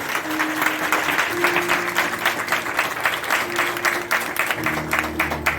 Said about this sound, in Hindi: आइए उसके जलाल के लिए जोरदार तालियां